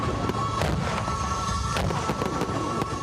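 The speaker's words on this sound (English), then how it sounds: "The celebrations started early with fireworks over the capital." Fireworks burst over Port Moresby for Papua New Guinea's Independence Day celebrations, a dense rumbling wash with repeated sharp cracks and pops from a distance.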